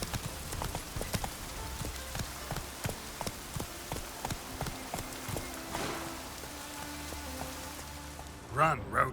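Steady rain with the rhythmic clip-clop of a galloping horse in The Witcher 3, the hooves close and continuous, plus a short creaking or vocal burst near the end.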